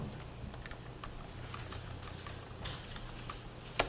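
A computer keyboard used while indenting lines of code, soft scattered key clicks over a steady low hum, ending in one sharper key press.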